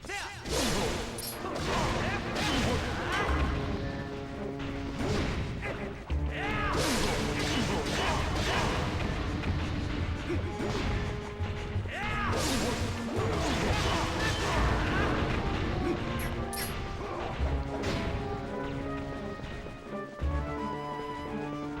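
Bombs going off in The Legend of Zelda: Twilight Princess Cave of Ordeals, repeated loud crashing blasts and whacks amid busy combat effects, continuous and dense throughout.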